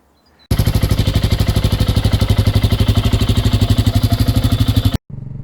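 A BSA Goldstar scrambler motorcycle engine runs close and loud with a rapid, even thumping pulse for about four and a half seconds, cuts out briefly, then picks back up.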